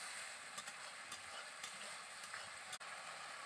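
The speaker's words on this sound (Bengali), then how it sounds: "জল দিয়ে আবারও আমি কিছুক্ষণ ধরে কষিয়ে নেব মশলাটাকে" Faint, steady sizzling as masala spice paste with added water is stirred and fried in a pan, with a few soft utensil scrapes and no voices.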